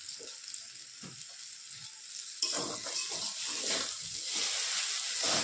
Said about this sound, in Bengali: এখন ভালো করে এটার সঙ্গে মিশে নেব